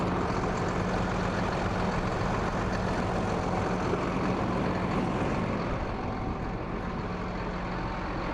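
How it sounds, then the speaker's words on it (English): A 2016 Hino 26-foot box truck sits with its diesel engine idling, a steady, loud, close rumble that holds unchanged throughout with no voices over it. "The truck is running right now."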